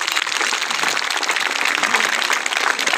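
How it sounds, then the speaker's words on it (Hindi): Dense, sustained applause from a large audience at an outdoor inauguration ceremony for a rural development office, a steady roar of many hands clapping at once without a break. "एक बार जबरदस्त ताली बजा दो।"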